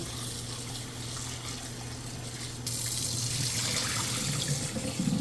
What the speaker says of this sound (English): We're gonna take those. Get a good rinse on them.